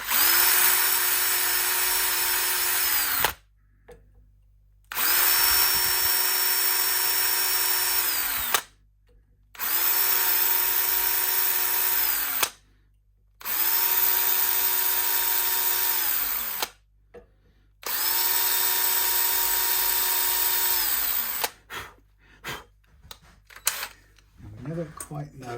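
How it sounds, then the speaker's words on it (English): A power drill bores into the body of a Stratocaster electric guitar during a refurbishment, running in four long steady bursts separated by short pauses, loud and close, with the whine shifting pitch as each burst ends. "drill down into here, guided by my little bit of green tape."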